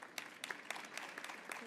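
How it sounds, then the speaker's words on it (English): A brief round of applause from a conference audience at a COP-21 climate panel, a quiet, scattered patter of clapping heard from a distance and fading quickly. "Can we give Maya a quick round of applause?"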